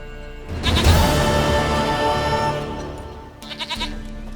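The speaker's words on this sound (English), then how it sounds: "Goat of mine, dearest, sweetest goat." Goat bleating in The Witcher 3: Wild Hunt, one long loud wavering bleat, then a short stuttering bleat after a brief lull, close and clear.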